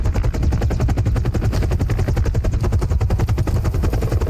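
A helicopter in Modern Warfare 3 (2023) thumps close and loud, its rotor blades beating in a fast, steady rhythm that holds throughout without any voices.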